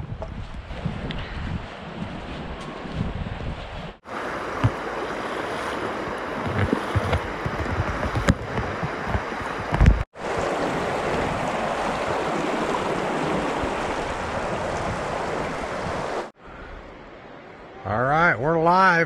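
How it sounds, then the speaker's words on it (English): Rushing river water in the Virgin River through the Narrows of Zion National Park, a steady broadband wash close by, broken by brief gaps and splashes of wading, with a voice talking over it near the end. "This is the Virgin River"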